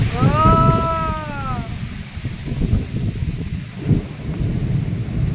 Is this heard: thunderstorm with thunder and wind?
yes